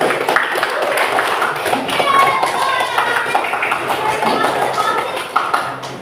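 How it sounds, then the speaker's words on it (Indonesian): Schoolchildren in an Indonesian classroom clap together at the end of a lesson, a dense, ragged patter of hands that runs steadily for several seconds with some chatter mixed in. "tepuk tangan pelajaran hari ini ya"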